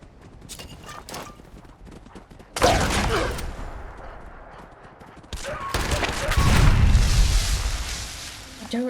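Explosions go off in Fallout 76 combat, first a sudden loud blast around the middle of the stretch and then a second, heavier rumbling burst with low booming toward the end, amid scattered impacts and game noise.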